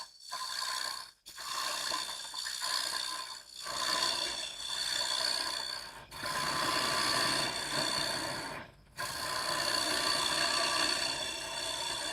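A wood lathe runs in reverse while turning a lidded box with resin, a steady whining drone broken by several brief pauses, with no voices.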